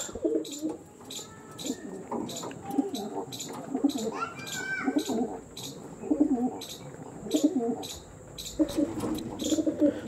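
Andhra pigeons, a standing pair with fine shape, coo in repeated low throaty bursts close by, steady across the stretch with faint chirps and background noise.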